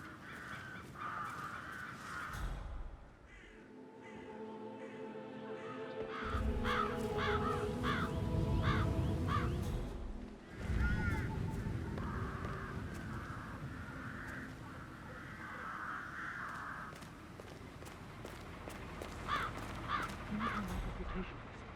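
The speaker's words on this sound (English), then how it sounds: "It's the birds. They're making a racket, droppings everywhere." Crows caw repeatedly in the video game Hitman 3, their harsh calls coming in clusters at moderate distance, mixed with background ambience, while voices talk over parts of it.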